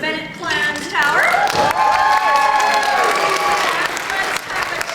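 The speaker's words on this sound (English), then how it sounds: "let's have a cheer for the Bennett clan's tower" A crowd cheers and applauds for the Bennett clan's tower in a game show studio, a steady, loud roar of clapping and voices with high whoops and shrieks rising over it throughout.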